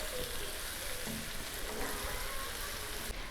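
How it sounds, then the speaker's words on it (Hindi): Okra frying with minced meat over low heat for a Pakistani bhindi keema dish, a steady broadband sizzle running unbroken and fairly loud throughout with no voices. "भिंडी को हमने कीमे के साथ फ्राई कर लिया है"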